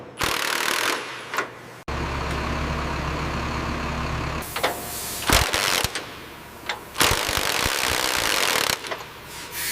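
An impact wrench works stuck bolts on the steering linkage of an abandoned airport tug, hammering in loud, rattling bursts with a steady machine drone between them.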